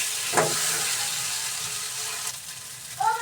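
Potatoes frying in oil with cumin paste give a steady, close sizzle and hiss, with a brief stir clatter near the start and a faint clink at the end.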